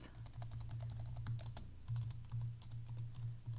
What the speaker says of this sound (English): with some background sounds of tapping, scratching, possibly typing